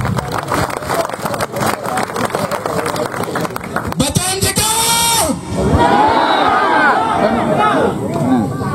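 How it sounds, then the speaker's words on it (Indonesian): A crowd at an outdoor campaign rally for the BTM-CK Papua gubernatorial candidates in Waropen cheers and applauds, with a dense burst of clapping midway. Steady crowd noise and shouting run throughout, and a voice speaks over it. "Mari kita beri aplaus yang meriah dulu"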